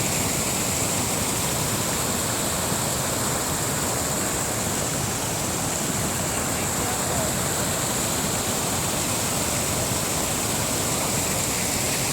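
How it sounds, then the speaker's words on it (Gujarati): A river rushing past a village, heard as a dense, constant roar of flowing water that fills the whole scene without pause. "નદીના પ્રવાહ."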